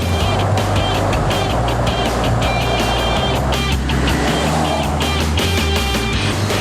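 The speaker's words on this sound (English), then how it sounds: "this Merc has been a real pleasure to drive" A Mercedes G-Class G-Wagon on the move: a steady, loud engine and road rumble with strong low drone, punctuated by rhythmic ticking or clicking sounds and occasional shifts in tone as it drives.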